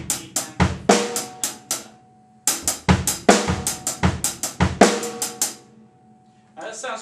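Linear drum groove on snare and kit, crisp sharp hits in steady sixteenth-note phrasing, close and loud, two bursts separated by a short pause, with a brief fainter pattern starting at the end.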